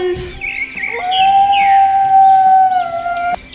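A wolf gives one long, steady howl that holds a smooth pitch for about two seconds before dipping and fading, loud and near, with faint chirping birds in the background.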